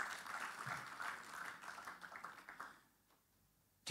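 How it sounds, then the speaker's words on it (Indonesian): Church congregation clapping for about three seconds, a dense steady patter of many hands that stops abruptly, leaving a near-silent room, with one sharp sound right at the end. "Tepuk tangan bagi Tuhan kita Yesus Kristus."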